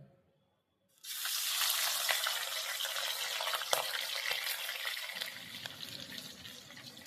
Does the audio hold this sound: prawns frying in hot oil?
yes